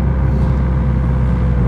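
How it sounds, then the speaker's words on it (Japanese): Honda Civic FK7 with a manual gearbox blipping the throttle on a downshift, a steady loud low engine drone with a brief rev swell, heard from inside the car with no talking. "これがブリッピングシフトダウンと言われているやつですよ。"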